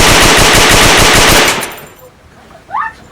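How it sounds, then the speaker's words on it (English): A rapid burst of automatic gunfire rattles loudly for about a second and a half, then cuts off into quiet, followed by a brief faint cry, in a Jamaican street drama. "Sound like one gunshot."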